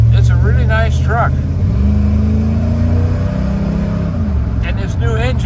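A 1940 Ford street rod pickup with a new engine cruises down the freeway, its loud, steady engine drone shifting pitch as it pulls, with someone talking over it at the start and end.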